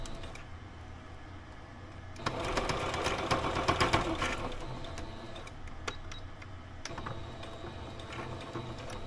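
A home sewing machine stitches fabric at a slow pace, close and moderately quiet, with a steady mechanical hum and ticking that speeds into a denser run of stitches for a couple of seconds, then settles again.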